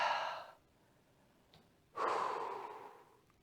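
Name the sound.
deep breathing during yoga practice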